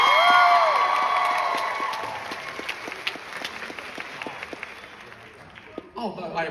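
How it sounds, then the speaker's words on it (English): Studio audience applause with some cheering, loudest at the start and thinning to scattered claps that fade, with a brief burst of noise near the end. "Round of applause for this guy."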